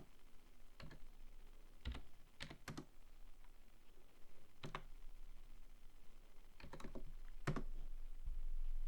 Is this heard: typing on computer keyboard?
yes